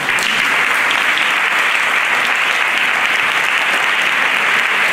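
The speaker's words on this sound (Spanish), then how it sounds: "un aplauso" Sustained, dense applause from a concert audience greeting a songwriter, a steady loud wash of many clapping hands lasting throughout without a break.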